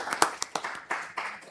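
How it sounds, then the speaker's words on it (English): A small audience claps for volunteers at a startup talk, a sparse burst of individual claps with uneven spacing that thins out quickly. "How about a little clap for our volunteers?"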